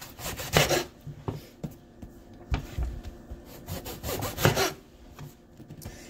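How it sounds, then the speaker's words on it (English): A knife saws through the ends of an eggplant on a cutting board, a few short rasping strokes and thuds, close and clear with no talking. "I'm going to cut off both ends."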